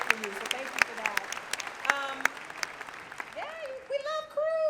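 A Comic-Con Hall H audience applauds the crew during a panel, the clapping filling the background while voices talk and call out over it across the whole stretch.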